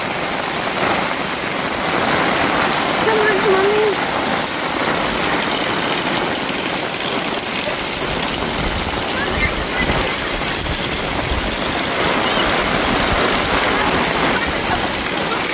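Rainwater rushing through a residential lane during the first heavy rain in Nagar, a steady broadband wash that holds for the whole stretch, with an engine idling nearby and a few voices now and then.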